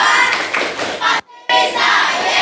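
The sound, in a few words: class of children doing a rhythmic clap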